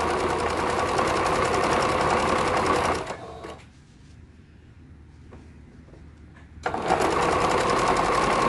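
A sewing machine stitches a folded half-inch fabric hem around a bell-bottom flare, loud and fast and whirring, stopping for a few seconds in the middle, then starting up again.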